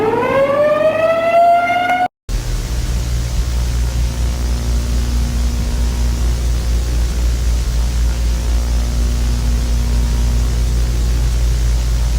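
A loud siren blast leaking from an insulated test chamber where each finished unit is tried out: a rising wail for about two seconds, a sharp cutoff, then a steady, heavy roar of broadband noise that fills the rest.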